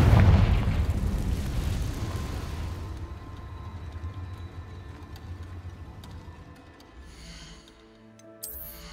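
A Confringo spell explosion in Hogwarts Legacy opens with a heavy, booming blast that slowly rumbles and fades over several seconds. A short burst and a faint crackle follow near the end.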